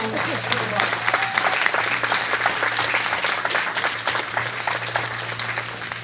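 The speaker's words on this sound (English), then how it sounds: "Please give the Lord a hand clap" A church congregation claps for the Lord after a prayer, a dense, steady wash of hand claps over a low sustained hum, with voices mixed in throughout.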